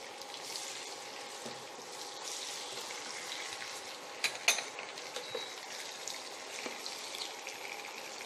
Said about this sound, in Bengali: তারপরে আমার কাছে এই বড় সাইজের দুটো পেঁয়াজ আছে কুচনো সেটা ছেড়ে দিচ্ছি